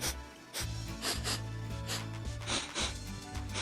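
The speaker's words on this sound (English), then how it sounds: "let's give it a sniff" Person sniffing a lily-scented craft kit box, several quick close inhalations over a low background hum, with no talking.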